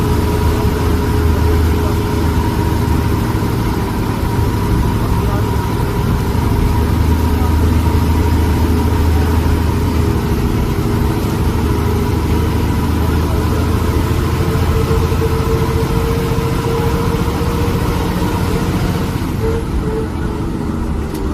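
A bus climbs winding mountain roads from Sundla toward Saloni, its engine a steady, close mid-pitched drone with constant road rumble throughout, with no break in the sound.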